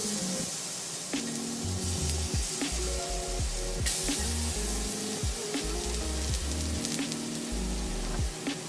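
Minced garlic sizzles steadily in a preheated pan, a continuous hissing fry that stays fairly even and close throughout.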